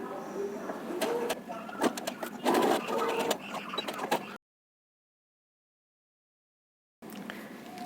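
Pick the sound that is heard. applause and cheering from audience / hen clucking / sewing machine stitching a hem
sewing machine stitching a hem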